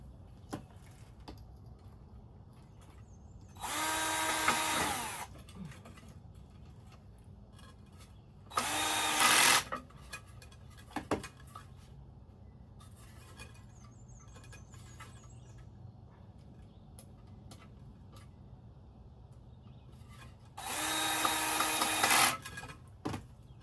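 Three loud bursts of power drilling into a raised garden bed, each a few seconds long, separated by quieter stretches of faint background noise.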